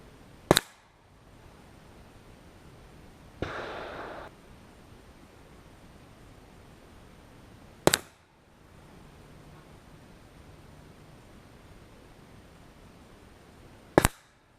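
A .22 AirForce Condor air rifle firing cast slugs: three sharp, isolated cracks spaced several seconds apart against faint outdoor hiss, with a brief rustle between the first two.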